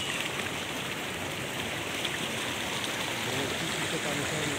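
Cold spring water runs from the source at Shrestha Jwala temple in Dailekh, making a steady, close, continuous rushing wash that never breaks.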